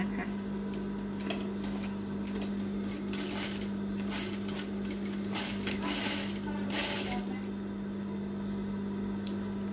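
A sewing machine stitches a homemade fabric face mask, running in quick bursts with clicks and rattles over a steady hum, fairly quiet and close, with no voice.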